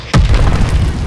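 A single sudden rocket explosion from the Call of Duty Vanguard Stalingrad battle hits hard, then a deep rumbling boom decays with debris noise.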